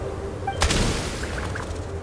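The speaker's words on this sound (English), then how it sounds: "There's the gunshot." A single sharp gunshot in the video game Genshin Impact, set on snowfields, cracks out once and trails off into a short reverberating tail over a steady low background.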